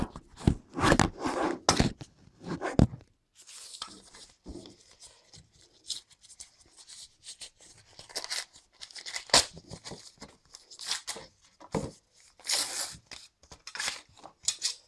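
Cardboard packaging and plastic wrap being torn open and handled while unboxing a Cooler Master Enforcer PC case, with repeated close tearing, rustling and crinkling bursts at an uneven rhythm and no talk.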